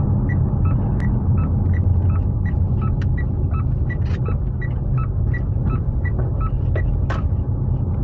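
A PHEV car accelerating while towing a box trailer gives a low, steady rumble of road and drivetrain noise heard from inside the cabin, with faint regular ticking over the top and no talking.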